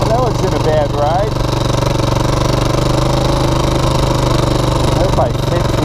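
A Honda TRX400 4x4 ATV engine runs at a steady, loud, close drone with a constant low throb. Brief voice-like sounds rise over it near the start and end.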